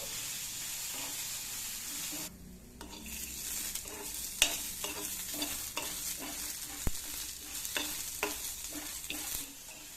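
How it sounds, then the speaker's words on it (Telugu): Cumin seeds and other spices fry in a spoonful of oil for gongura pachadi, with a steady soft sizzle broken by repeated light stirring scrapes in a pan, close and quiet. "ఇవన్నీ వేసుకొని ఒక స్పూన్ ఆయిల్ వేసుకొని ఫ్రై చేసుకోవాలి"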